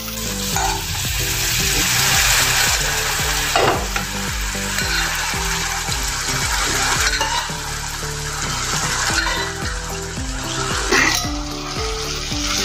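Cooked dal tipped into a pan of fried spices sizzles loudly and steadily while a spoon scrapes and stirs in a busy rhythm, with occasional clinks of metal, close and without talk.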